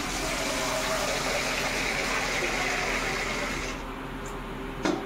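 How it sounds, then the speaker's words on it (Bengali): Water gushes steadily into containers being filled at home, a loud close rushing stream that eases near the end, followed by a brief clunk. "জল নেই, তার জন্য জল ভরে রাখবো।"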